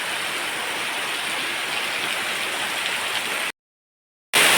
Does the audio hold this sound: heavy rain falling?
yes